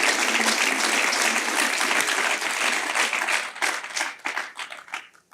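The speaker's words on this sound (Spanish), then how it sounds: "Dale un aplauso al Señor con todas tus fuerzas" Church congregation applauding: dense, loud sustained clapping filling the room, fading out toward the end.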